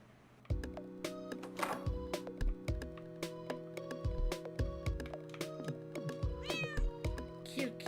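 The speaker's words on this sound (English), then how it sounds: "cute cat." A cat meows several times, fairly close and clear, over a busy, clicky background of steady tones and tapping.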